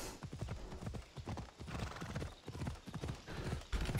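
Rapid hoofbeats of a galloping horse in the video game Assassin's Creed Odyssey clatter in a steady rhythm, fairly faint, with a brief whinny mixed in.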